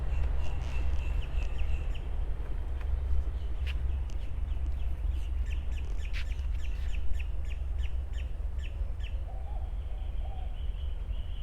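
Scattered bird calls and chirps ring out over a constant low rumble of background noise, with no one talking.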